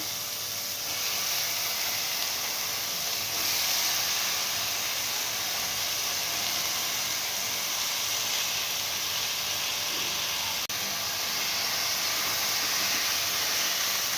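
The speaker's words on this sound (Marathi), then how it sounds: "आता आपला मसाला परतून झालेला आहे त्याच्यामध्ये आपण हे अख्खे मसूर टाकून देऊ" Whole masoor lentils tipped into freshly fried masala in a pan, a steady loud sizzling hiss that runs without a break from start to finish, with no voices.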